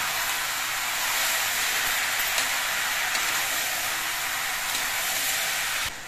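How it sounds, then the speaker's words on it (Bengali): Bottle gourd sizzles in a pan with salt and turmeric as it is stirred, producing a steady, continuous hiss that stays even throughout, with no one talking. "নুন আর হলুদ দিয়ে লাউটা নেড়ে চেড়ে বেশ ভালো মতো মিশিয়ে নিয়েছি"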